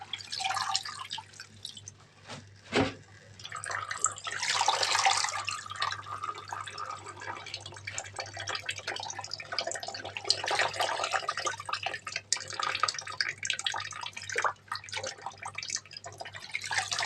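Swiss chard leaves washed by hand in a basin of water, with continuous sloshing, dripping and splashing that swells and settles as the leaves are stirred and lifted.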